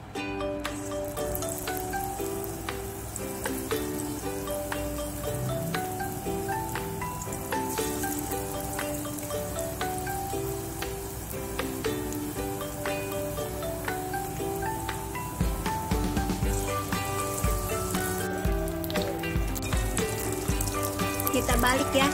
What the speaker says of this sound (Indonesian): Nah minyaknya udah panas, kita goreng tahunya ya.